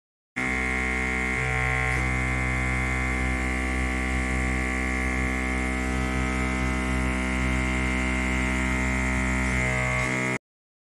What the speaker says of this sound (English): My walking is slow and noisy. Because of vacuum pump used for suction cups on the feet.